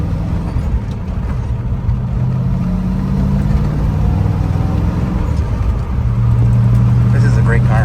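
A 1971 Chevrolet Corvette convertible with a four-speed idles close by in a steady low rumble that holds throughout, with its pitch shifting slightly toward the end, while people talk over it.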